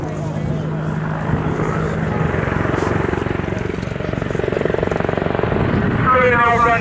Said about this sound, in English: the Apache rapidly accelerates now, allowing it to both conceal itself if necessary, or in this case manoeuvre into position for a pedal turn